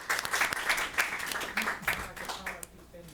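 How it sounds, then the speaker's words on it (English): Audience applause at an education night event, a burst of clapping from a seated crowd that fades out toward the end. "Let's give them another round of applause."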